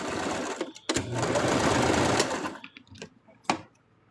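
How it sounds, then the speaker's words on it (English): A sewing machine runs a short, loud burst of stitching through plush fabric for a handmade plush toy, stopping after about two seconds, followed by a few clicks and fabric-handling knocks. "Let me go ahead and sew this"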